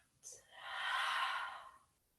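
A single long, soft exhale during a calm yoga session, a slow breathy whoosh that swells and fades over about a second and a half, close and quiet.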